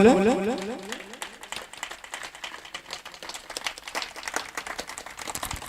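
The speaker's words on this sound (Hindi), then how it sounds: "ताली जोरदार बजाते रहो" An audience at a farewell during a devotional Manas singing gathering in Khajri claps in dense, steady applause, fairly faint and distant, after a brief voice at the start.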